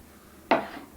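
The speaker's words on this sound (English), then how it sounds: "metal spatula, a couple of quick whaps" A metal spatula gives a single sharp whap against a board while freeing zuccarini dough, a quick close clack that dies away fast after a quiet start.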